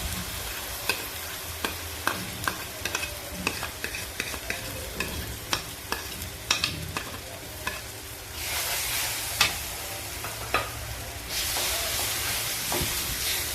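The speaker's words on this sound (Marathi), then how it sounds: "आता हे वाटण चांगलं फ्राय करून घेते।" Ground masala paste fries in a pan for dhaba-style paneer butter masala, a constant hissing sizzle broken by regular sharp spatula knocks and scrapes, with the sizzle swelling louder in the later stretches.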